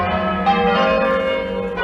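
Church bells ring loudly with sustained, overlapping metallic tones that hum and shimmer continuously, with no speech.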